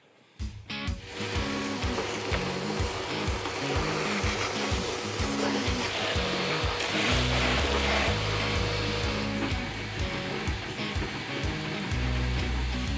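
A vacuum cleaner whirs steadily nearby, picking mouse droppings off a car engine bay, with a pulsing, clattering low rumble beneath the constant hiss.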